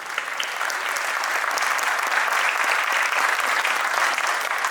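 Audience at a school annual concert in Pune applauding, dense sustained clapping at an even, loud level throughout, with no distinct voices.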